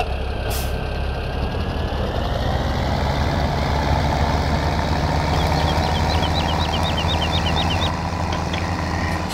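A tractor engine idles in Farming Simulator 17, a steady low rumbling drone that holds even and fairly loud throughout, with a faint higher whine running above it.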